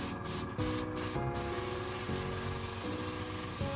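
A steady, loud hiss of blowing air with a few short sharper bursts at the start, accompanied by a constant low mechanical hum.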